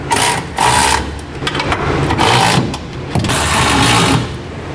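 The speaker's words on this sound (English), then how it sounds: "Now we'll begin tightening all of our bolts that go into our center section through our cross members." A power tool runs in bursts of rapid mechanical whirring and clattering while tightening gooseneck hitch bolts through the cross members under a 2008 Chevrolet Silverado, loud and close with short pauses between runs.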